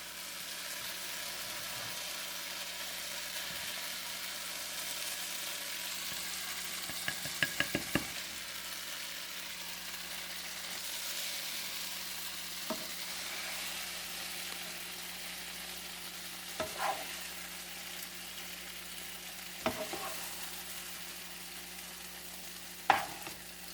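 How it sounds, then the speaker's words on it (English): Green beans and shiitake mushrooms sizzle steadily in a hot pan during a stir-fry, a continuous frying hiss broken by occasional clinks and scrapes of a utensil. "this is stir-fried green beans and shiitake mushroom"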